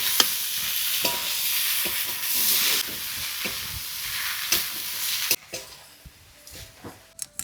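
Banana blossom goes into a pan of frying spiced potatoes with a little sugar, sending up a loud, broad sizzle and hiss, with repeated scraping stirs and clacks of the spoon as it fades.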